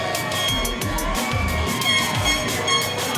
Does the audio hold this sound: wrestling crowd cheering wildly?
yes